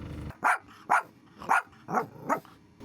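A dog named Anzu, inside a camper van parked on a snowy Niigata trip, gives five sharp, close barks in a fairly even rhythm, each separated by brief quiet.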